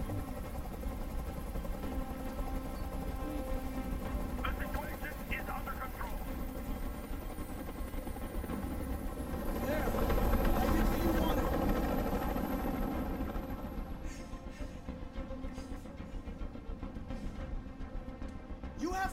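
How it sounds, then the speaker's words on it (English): Steady low drone of a helicopter hovering in Detroit: Become Human, constant and mid-distance, swelling briefly louder midway and sitting under speech throughout. "Tell that helicopter to get out of here."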